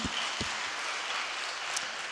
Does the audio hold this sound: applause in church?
yes